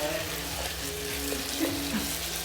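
Fine lamb and beef mince sizzling in a hot pan for kishik with fettayleh, a steady dense crackle filling the whole stretch, close and fairly loud with occasional stirring.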